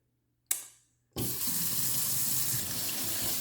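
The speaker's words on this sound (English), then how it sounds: "so now you're just going to rinse them" Tap water runs into a sink to rinse lentils. After a short splash there is a steady, close hiss of flowing water that continues to the end.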